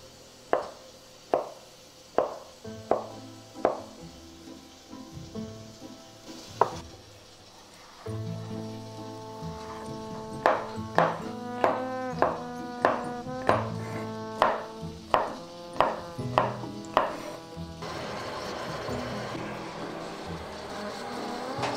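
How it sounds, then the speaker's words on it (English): A knife chops pickles on a cutting board in a home kitchen, a long run of sharp, evenly spaced thuds with a few pauses, close and clear and picking up pace toward the end. "it's a time to chop the pickles"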